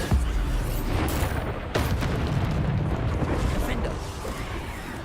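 A Bombarda spell explosion in the Hogwarts Legacy video game: a sharp booming burst that cuts through dense, rumbling combat noise, with voices around it.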